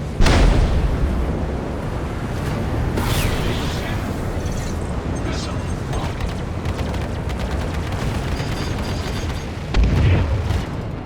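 A heavy explosion as the Glaive ship is destroyed in Star Citizen space combat, opening with a loud boom and trailing into a long rumbling roar with further bursts.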